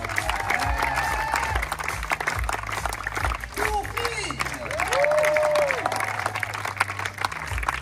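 Audience applause at the Plongeurs de l'Extrême diving show at Walibi Rhône-Alpes, steady clapping and crowd noise filling the clip beneath an announcer's amplified voice over music.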